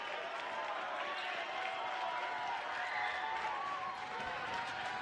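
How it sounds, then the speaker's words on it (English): A basketball crowd in Milford cheers and claps as a steady, dense roar of applause and voices, loud and continuous throughout. "One more to go as the Milford crowd gets loud."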